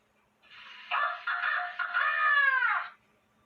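A rooster crows once at sunrise, a clear, close, drawn-out cock-a-doodle-doo lasting a couple of seconds against quiet surroundings.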